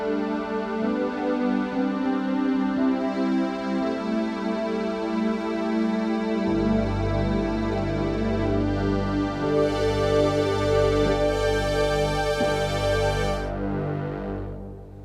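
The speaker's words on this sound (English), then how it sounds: "This is called Widening Analog, and the original patch sounds like this" Omnisphere synth patch called Widening Analog playing unfiltered: a rich sustained analog-style chord with deep low end and bright highs, swelling fuller around midway and adding airy top shimmer before cutting off near the end, alone with no voices.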